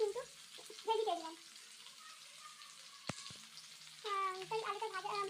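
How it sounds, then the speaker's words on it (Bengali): Potatoes fry in a pan with a soft sizzle, interrupted by a sharp clack and clatter, while someone talks over parts of it. "তাই আলুটা ভাজছি"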